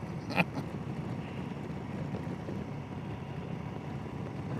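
Wind rushes in a steady low buffet around a motorcyclist riding on an open road with no trees nearby, a brief louder gust near the start, no talking.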